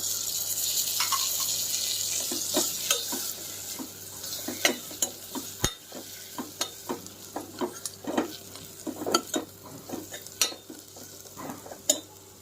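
Chutney masala and large tomato pieces fry in a pan for a drumstick curry, a steady sizzle under repeated close scraping and stirring strokes that grow more frequent and distinct as it continues.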